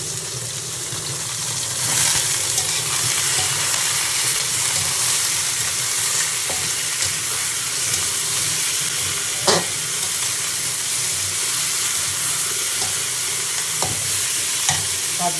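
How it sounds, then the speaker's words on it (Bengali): Beef and spices stir-fried in a hot pan, a steady close sizzle with scraping stirs and occasional utensil clacks against the pan throughout, no talking. "কষিয়ে দিচ্ছি, গোস্তটা দিয়ে দেবো।"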